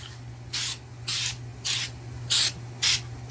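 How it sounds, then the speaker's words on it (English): Short bursts of compressed air blasting dust out of the bezel of an Asus 27-inch computer monitor being repaired, five distinct hissing puffs in an uneven rhythm, close and fairly loud over a steady low hum. "Just blow it with some compressed air."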